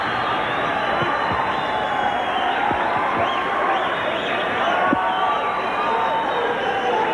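Cheering fight crowd at the San Jose Civic Auditorium keeps up a dense, sustained roar during a boxing round, loud and unbroken, with scattered shouts and whistles rising above it.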